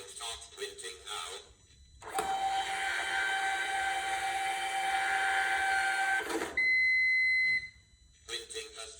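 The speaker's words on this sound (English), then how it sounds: "I will start printing now." A printer runs a print job in one long, continuous mechanical whir lasting a few seconds. A steady tone follows, and brief machine noises come just before and after.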